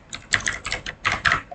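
Keystrokes on a computer keyboard as a network switch configuration command is entered, a quick uneven burst of clicky taps in two short clusters, close and clear with no talking.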